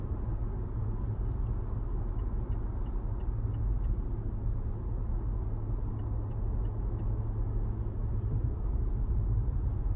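A 2019 Mazda CX-5 Signature AWD with the 2.5L turbo driving in sport mode, heard from inside as a steady low engine and road rumble that holds even throughout, with no talking.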